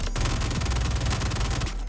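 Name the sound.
Gemini F55 LMG firing shots, from video game Star Citizen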